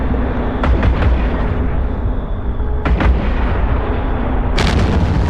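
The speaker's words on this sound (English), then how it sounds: "Oh, now he's shooting back." Ship weapons firing in the EVE Online video game, several heavy booming shots with sharp cracks at irregular intervals over a loud continuous rumble.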